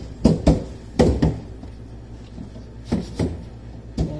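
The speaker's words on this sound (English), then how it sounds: "And now I'll slide this shelf in all the way to the back." A homemade shelf is slid into a fridge, giving a series of hollow plastic knocks and scrapes in uneven clusters, close and fairly loud, with no talk.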